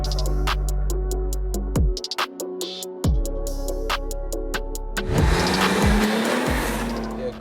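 A tuned BMW 535D diesel accelerates hard, its engine revving up through rapid gear changes with clicking pops, then a rushing roar of speed and road noise, heard from inside the car.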